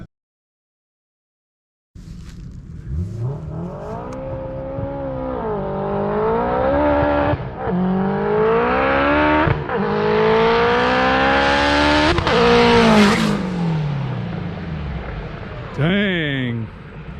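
A fast race car approaches from silence, its engine rising and revving hard through several gear changes as it screams past loudly, then a brief high whine trails off at the end.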